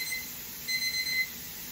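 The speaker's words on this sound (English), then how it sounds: "The timer's going off for 10 minutes." A kitchen timer beeps in short rapid bursts while potatoes are pressure-canned, over a steady hiss of steam.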